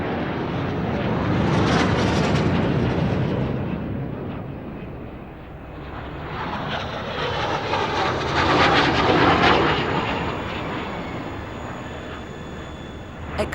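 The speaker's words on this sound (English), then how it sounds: "American F-18 Hornets." American F-18 Hornet jets fly past the aircraft carrier USS George Bush, a loud roaring rush that swells, eases, then builds again with a sweeping whine as they pass at sea.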